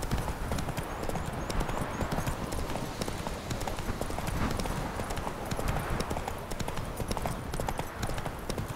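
Hooves pound continuously as a horse gallops in The Witcher 3: The Wild Hunt, a dense, steady clip-clop rhythm over a loud, rumbling game soundscape throughout.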